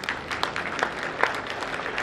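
Audience applause during a Marathi public lecture, a steady dense patter of many hands clapping at moderate volume throughout.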